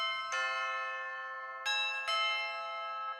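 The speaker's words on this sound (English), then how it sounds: "Then we got nice tubular bells." Tubular bells voice on a Yamaha Genos 2 keyboard, three clear struck chime notes with long shimmering sustain, the later two close together, alone and near.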